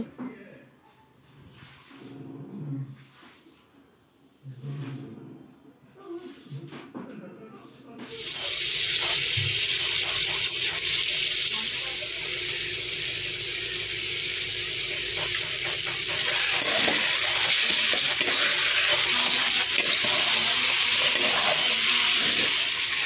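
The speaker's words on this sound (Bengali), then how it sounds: "সব মশলাগুলো একসাথে দিয়ে কষানো হচ্ছে" Turmeric, salt, cumin powder and other spices sauté in a pan for an egg and potato curry, starting as a loud, steady sizzling hiss about a third of the way through and running to the end. A voice is heard before the sizzling begins.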